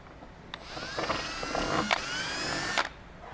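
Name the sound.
power drill drilling rivet hole in Camaro spoiler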